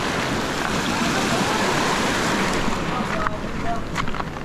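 Ocean waves wash against a fishing spot in Palawan, a steady broad rush mixed with wind buffeting the microphone, while voices speak faintly over it.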